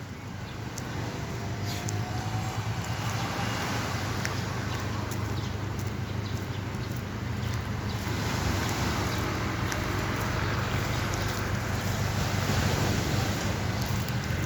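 Ocean waves at Ao Nang beach in Krabi wash in a constant surf roar mixed with wind buffeting the microphone, steady and fairly loud throughout.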